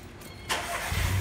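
A car engine starts with a sudden onset midway, then settles into a low, steady idle close by.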